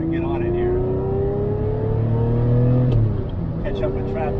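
A Ferrari Testarossa accelerating on the road, its engine note rising steadily in a smooth loud drone from inside the car, easing off and shifting near the end, with someone talking over it.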